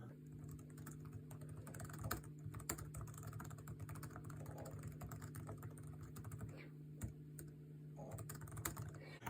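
Typing on the keyboard of a 2008 titanium MacBook Pro, heard as quiet, fairly quick key clicks over a low electrical hum, with no talking.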